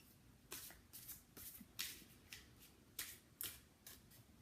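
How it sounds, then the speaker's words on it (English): An Osho Zen tarot deck is shuffled by hand, close and quiet, giving about eight crisp riffling bursts in an uneven rhythm with no talking. "I'm going to shuffle it up."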